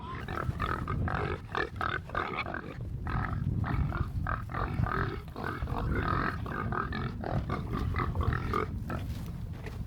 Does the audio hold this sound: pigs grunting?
yes